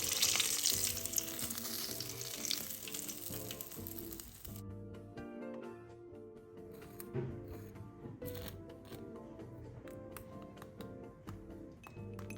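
Crispy rice paper shrimp rolls deep-frying in oil: a bright, fizzing sizzle at first, then a quieter stretch of scattered crackles and pops, with a faint tonal background throughout.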